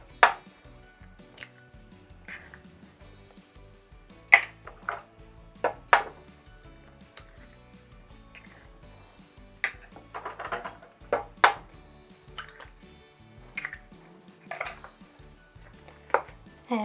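Sugar and eggs are mixed into bread dough in a bowl, heard as sparse, sharp clicks and taps of a utensil against the bowl with quiet gaps between them and no talking.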